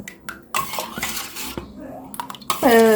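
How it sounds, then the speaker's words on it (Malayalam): A ladle clatters and scrapes inside a pot while mashing a cooked curry, giving close, loud metallic knocks and scraping strokes that end in a ringing clang. "തവി കൊണ്ട് നല്ലോണം ഒന്ന് ഉടച്ചെടുക്കാം"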